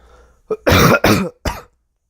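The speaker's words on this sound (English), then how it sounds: "Sorry about the coughing" Several loud, close coughs in quick succession: a short one, two longer harsh bursts, then a final cough, with near silence around them.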